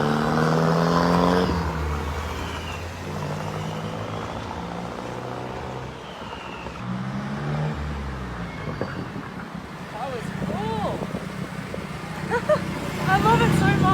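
A turbocharged Mexican supercar engine revs loud and close, rising and falling in sustained surges with turbo whine, while someone talks over it.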